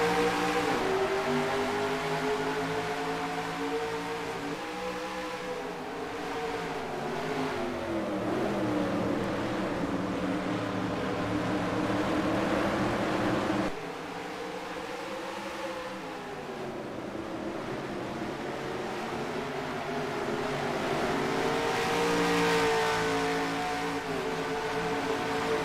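Race cars launching at the start of a race in NASCAR Racing 2003 at Infineon Speedway, a dense layered engine roar with rising and falling pitch sweeps from the field accelerating, sustained throughout.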